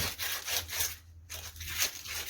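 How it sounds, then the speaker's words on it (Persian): Sandpaper rubbing around a gas burner fan part to ease fitting a new ball bearing, a steady scratchy rasp in repeated strokes with a short pause near the middle, close and alone. "با استفاده از سنباده خورده این دورش رو سنباده میزنیم"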